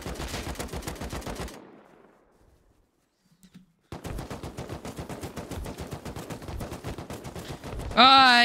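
Dense AK rifle gunfire in the survival game Rust, rapid bursts of close, loud automatic shots, a brief lull of near silence, then more sustained firing that continues to the end.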